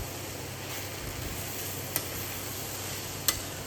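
Young jackfruit sabzi with freshly grated wet coconut is stir-fried in a pan, giving a steady, even sizzle with two sharp utensil clicks against the pan.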